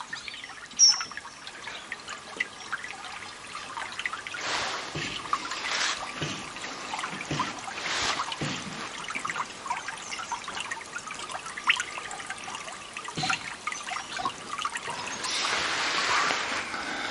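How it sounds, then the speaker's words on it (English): Brook water in Hooton village, South Yorkshire, trickling and flowing softly at a distance, a faint continuous wash with slightly stronger gurgling surges, no voices. "Maybe able to hear the brook at the moment."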